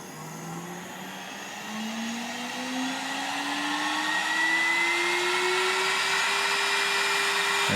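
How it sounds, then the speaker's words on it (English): A FoxAlien 1.5kW CNC spindle spins up with a smooth whine that rises gradually in pitch as it reaches full speed, steady and moderately loud with no talk. "if we simply turn the knob, that has kicked on the spindle"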